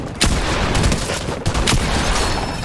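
Turret gunfire in a Fortnite battle with multiple turrets: dense, continuous automatic shooting rattles loud and close for the whole stretch, with a few sharper bursts standing out.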